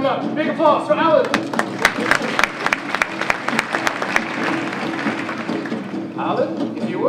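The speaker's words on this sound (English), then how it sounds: "Big applause for Alan" Audience applause and scattered clapping greet a volunteer on stage at a samurai sword show in Blackpool, England, with a host's voice briefly heard at the start and near the end.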